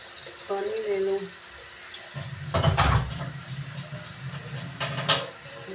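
Tap water runs steadily into a pot or sink in a home kitchen while kadhi pakora is being cooked, a fairly close, continuous gush with a few clatters and no talk over it.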